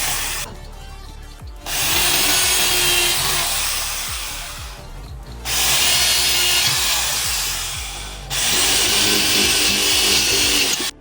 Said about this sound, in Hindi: ये ड्रिल मशीन इसके अंदर होल करने के लिए